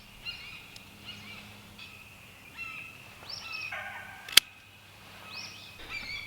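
Birds call repeatedly outdoors around a blueberry planting, with scattered gobbling, chattering notes at moderate distance, and one sharp click partway through.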